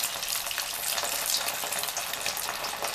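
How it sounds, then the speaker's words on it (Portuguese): Kibbeh frying in very hot fat give a dense, continuous crackling sizzle, close up and steady throughout, with no voices. "já enrolamos todos os quibes, então vamos colocá-lo para começar a fritura"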